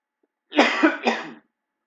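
A person coughs twice in quick succession, close and fairly loud, with a brief pause between the rough bursts.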